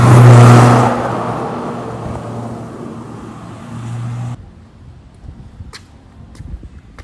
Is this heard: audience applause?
no